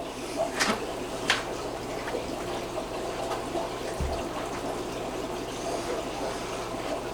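Water runs steadily into a discus breeding aquarium as it fills, making a continuous moderate hiss and wash with a few brief splashy bursts near the start and no talking.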